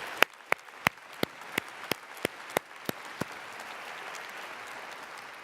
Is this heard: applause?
yes